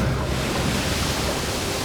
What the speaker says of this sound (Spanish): Al salir a mar abierto enfrentamos las olas del paso Brennock.